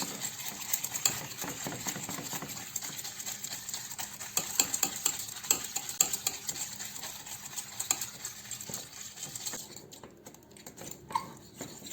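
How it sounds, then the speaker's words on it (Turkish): A spoon stirs muhallebi pudding in a pot on the stove, scraping and tapping in an irregular close rhythm over soft bubbling for several seconds before easing off, no talk. "Bunu iyice karıştırıyoruz arkadaşlar muhallebi kıvamına gelene kadar"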